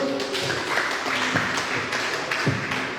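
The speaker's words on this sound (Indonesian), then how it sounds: "tepuk tangan untuk Bung Parjo" An audience at a book discussion event claps for the best question, scattered, uneven hand claps of moderate loudness with irregular taps that continue through the moment.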